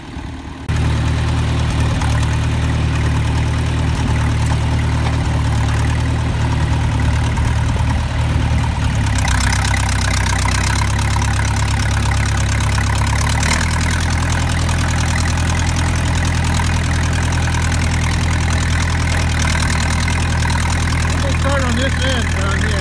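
An old tractor's engine idling steadily in a pasture, a loud, continuous low rumble that shifts pitch slightly partway through and carries on throughout, with a voice talking over it.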